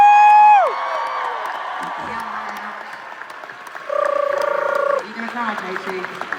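A concert audience at a show in Las Vegas applauds and cheers loudly, with whoops and shouts rising over dense clapping throughout; a loud sustained voice opens the stretch and further vocal calls cut through the crowd noise.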